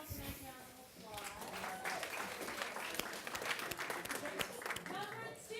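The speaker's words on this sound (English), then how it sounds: "Give yourself a nice round of applause." A workshop audience in the Bronx claps as a session wraps up: dense, continuous applause from many hands at moderate distance, sustained for several seconds with some talk mixed in.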